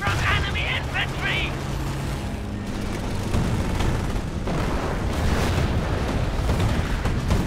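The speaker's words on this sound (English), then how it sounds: "Fire from enemy infantry!" Enemy infantry gunfire in Company of Heroes during the Market Garden battle at Wolfheze, a dense continuous wash of crackling shots and booms with a voice speaking over the early part.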